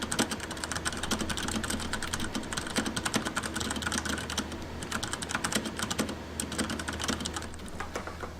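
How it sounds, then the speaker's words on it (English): Close-up typing on a mechanical computer keyboard, a dense, rapid run of crisp key clicks and clacks with uneven rhythm, continuous and alone without any voices. "Now you can get a better idea of how the keys sound up close when you're doing some actual typing."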